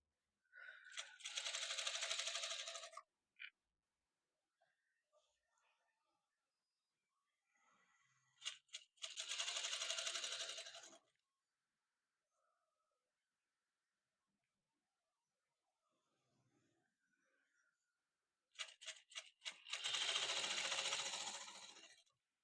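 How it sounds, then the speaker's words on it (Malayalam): A sewing machine stitches piping thread onto the neckline of an angrakha top in three separate bursts of rapid, close mechanical whirring, with quiet pauses between them and no talking. "നമ്മുടെ ഈ പൈപ്പിംഗ് ത്രെഡ് നെക്കിലേക്ക് നമ്മൾ സ്റ്റിച്ച് ചെയ്തെടുക്കുന്നുണ്ട്"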